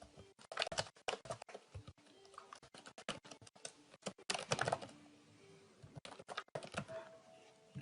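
Rapid keystrokes on a computer keyboard while code is entered, an uneven run of close, crisp clicks and taps with short pauses, no voices.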